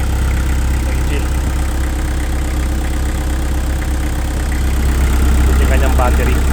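A Shindaiwa DG259MI 25 kVA diesel engine generator runs at a steady idle, a continuous low rumble close by, while a person talks over it.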